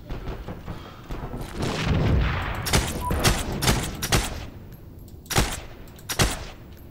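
In the World War II shooter game Heroes and Generals, a grenade is thrown amid a close fusillade of gunfire, with a string of sharp shots and heavy thumping booms, including a louder blast near the middle.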